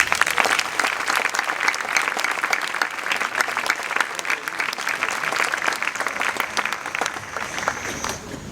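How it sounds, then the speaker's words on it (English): A school graduation audience gives a warm round of applause, steady dense clapping in a hall lasting several seconds with no talking over it. "Please join me in giving them a warm round of applause."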